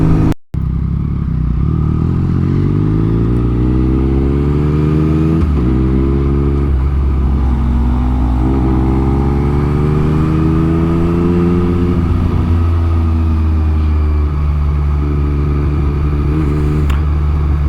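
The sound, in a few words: motorcycle riding and accelerating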